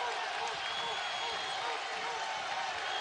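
A college basketball crowd at a Mississippi State vs Alabama game applauds a made basket, steady clapping and crowd noise filling the arena with speech faintly underneath.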